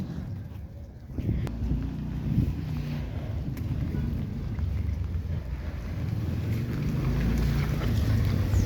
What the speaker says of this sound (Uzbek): Hozir zags mashina o'tadi. Mana qarab turishini hozir ko'rasizlar.